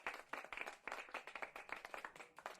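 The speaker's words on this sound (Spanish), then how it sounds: "Un aplauso." Church congregation applauding during a service, a steady run of brisk, overlapping claps from many hands, fairly distant and soft, continuing without pause.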